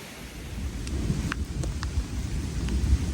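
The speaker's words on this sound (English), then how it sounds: "Got caught in the storm, so I'm now soaking wet." A thunderstorm on a mountain trail along the Appalachian Trail in Pennsylvania: steady heavy rain hisses throughout with low rumbling thunder underneath and a few sharp drop hits close to the microphone.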